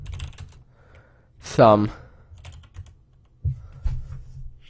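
Computer keyboard typing during Unreal Engine setup: soft, sparse key taps close to the microphone, broken by a brief spoken word.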